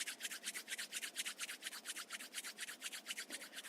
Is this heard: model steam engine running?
no